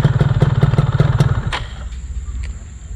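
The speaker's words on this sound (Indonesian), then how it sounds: "Ini ciri khas starter tangan punya F1ZR" Yamaha F1ZR motorcycle kick-started by hand, with a rapid, loud, close run of pulsing engine firing that then cuts off into a quieter, fading idle rumble.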